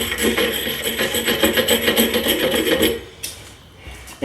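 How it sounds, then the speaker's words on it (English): A file rasps over the outside of drilled holes in a homemade metal flute to take off the burrs, a close rhythmic scraping of quick repeated strokes that stops near the end, followed by a brief clink. "all we're doing right now is just filing down the outside of the holes a little bit"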